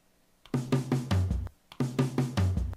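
A short turnaround drum loop sampled from a song, built in Fruity Loops, plays twice: punchy kicks and snares in a steady pattern, ending each pass with a low booming hit.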